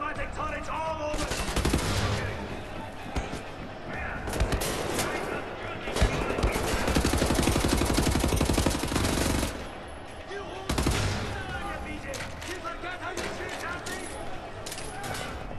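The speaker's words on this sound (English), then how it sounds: "There's automatic turrets all over!" Automatic turrets in the Wolfenstein: The New Order prison break unleash loud, sustained machine-gun fire in long overlapping bursts, with a brief lull near the end before shooting resumes.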